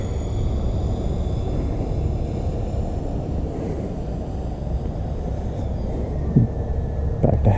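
A C-130 aircraft doing touch-and-go flights, heard as a steady, fairly distant engine drone with faint whining tones and a couple of brief thumps near the end, no talk.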